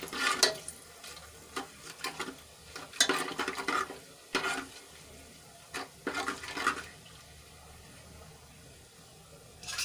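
Crushed sesame seeds sauté in hot oil for a Gujarati potato curry, making a low background sizzle broken by repeated bursts of spoon stirring and scraping against the pan, close and without talk.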